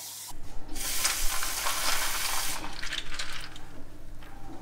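Hot water running from a home tap, heard as a steady close hiss and splash that starts abruptly, holds for a couple of seconds, then eases into a softer trickle with no voices.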